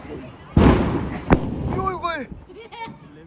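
Diwali firecrackers go off outdoors, starting with a loud close bang and a sharp crack. Crackling bursts follow while people shout and talk excitedly over the noise.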